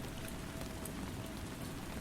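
Steady rain falling, a dense, even hiss of drops with no gaps or swells, filling the space at a constant moderate level.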